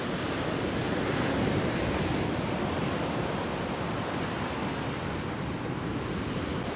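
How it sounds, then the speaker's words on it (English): Ocean waves on a beach along the Pacific coast, a continuous loud wash of surf filling the whole stretch, with no voices. "More ocean waves."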